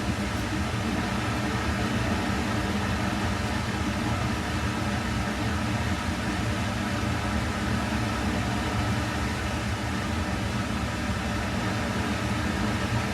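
A laboratory vacuum pump drones steadily while evacuating tubing in a chemistry setup, giving a constant mechanical hum with a broad hiss that stays even and unbroken throughout.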